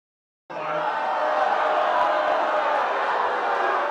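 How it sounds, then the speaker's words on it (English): A large crowd booing at a Monday night congressional town hall, a loud, sustained wash of many voices starting abruptly and holding steady without break. "It was a crowd of booing at Monday night's town hall"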